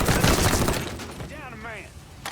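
A burst of gunfire in the video game Mafia 3 crackles loud and close in a short rapid flurry, then fades under a player's voice talking.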